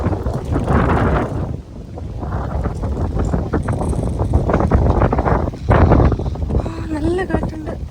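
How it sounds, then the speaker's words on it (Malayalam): Strong wind buffets the microphone outdoors in Germany, roaring in loud gusts that rise and fall, with a person talking underneath. "നല്ല കാറ്റുണ്ട്."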